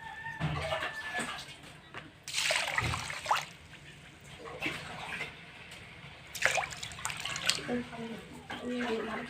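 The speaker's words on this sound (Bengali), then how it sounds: "চালটা আমি ভালোভাবে ধুয়ে নিয়েছি।" Rice is washed by hand in a pot of water for chicken biryani, with repeated swishing and splashing bursts at irregular intervals between quieter trickling, close by.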